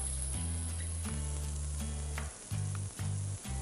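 Vegetables sautéing in a pan for lemon coriander soup, a steady close sizzle with a few stirring scrapes and brief shifts in the frying hiss.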